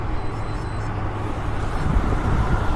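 A truck rolls past on a feeder road, its steady low rumble building slightly toward the end over broadband road and wind noise, heard from inside a moving vehicle with no talk.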